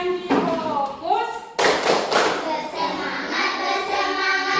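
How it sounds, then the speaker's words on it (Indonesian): Classroom group in a lesson chanting and clapping in unison, a burst of sharp hand claps and taps breaking in mid-clip over continuous children's voices, fairly loud and close. "Tepuk janji fokus."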